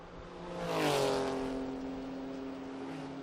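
A classic semi-lightweight Jaguar E-Type race car on the Estoril circuit rises to a loud passing roar around the one-second mark, then its engine note fades into a steady droning whine as it pulls away.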